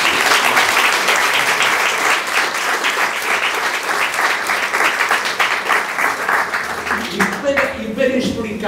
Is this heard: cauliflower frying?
no